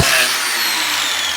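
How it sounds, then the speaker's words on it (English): Angle grinder fitted with a disc sander running steadily, a continuous loud whirring grind with a brief louder start, heard alone. "Disc sander."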